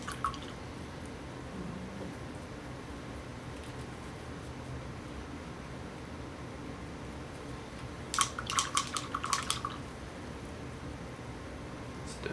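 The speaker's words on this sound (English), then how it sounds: "Should wash your brush out good. Get it watery." A paintbrush is swished and tapped in a cup of water, giving a brief cluster of soft splashy drips and clinks in the middle of a quiet room, with no voice.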